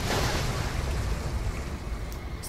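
Sea waves and surf in the game Resident Evil 7 roll in a broad, steady rush with a gusty wind-like wash, loudest at the start and easing slightly, with no voices.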